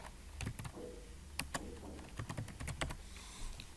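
Keys clatter on a computer keyboard as Java code is typed, a quick irregular run of close, crisp clicks with short pauses between bursts.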